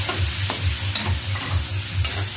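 Vegetables for Filipino pakbet sizzling and being stirred in an oiled frying pan, with a steady sizzle and a rhythmic, close scraping of the spatula about every quarter second and no talking.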